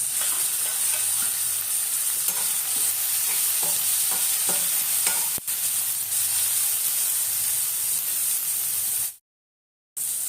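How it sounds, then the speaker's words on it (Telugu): Tomato pieces sizzle and crackle in hot oil in a pan while being stirred, with a loud continuous hiss and a few scraping stirs, then sudden silence near the end. "వేయించుకున్న తర్వాత టమాటా ముక్కలు వేసుకోవాలి."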